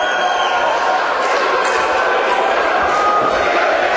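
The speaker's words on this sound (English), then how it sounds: "Well Ward, the crowd screaming for him" A boxing crowd roars and cheers for a fighter in a dense, loud, continuous wash of voices. A commentator talks over it.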